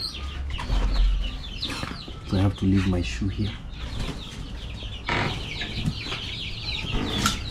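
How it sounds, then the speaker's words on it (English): Chickens in a coop of around fifty birds cluck and squawk throughout, with brief bursts of wing flapping, while a person talks over them at close range. "Inside here we have around 50 birds."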